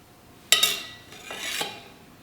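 A knife cuts into a dense vegan chocolate coconut cream cake, giving a sharp scrape followed by softer dragging and slicing sounds, close and brief.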